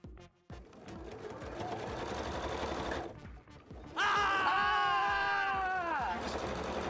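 A sewing machine stitches wing scales and pieces at tight tension, running as a steady mechanical whir under background sound, then speeding up into a louder, higher-pitched whine for about two seconds before it stops.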